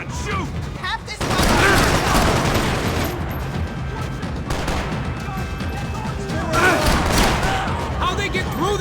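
Dense gunfire in the Max Payne 3 video game during a first-person firefight, with overlapping shots, crashes and mechanical clatter running loud and continuous, with voices shouting over it.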